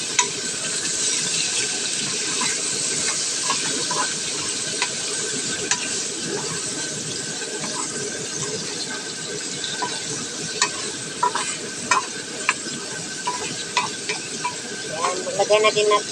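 Chicken feet for adobo sizzle and fry in a pan, a continuous hissing crackle with scattered sharp pops and clinks of stirring that grow busier toward the end.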